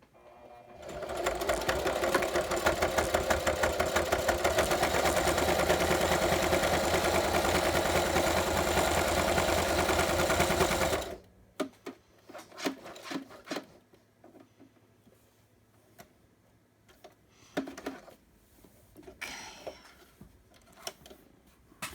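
A sewing machine stitches a paper folio journal tri-fold, running loud and steady for about ten seconds before stopping, followed by quieter handling and rustling.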